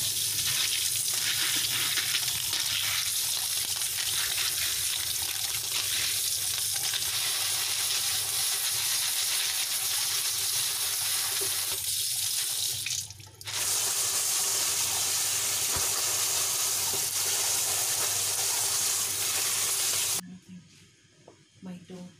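Kudzu root goes into a pot of boiling water for a Chinese-style soup, making a steady, loud, hissing bubble that carries on almost unbroken and then cuts off abruptly near the end.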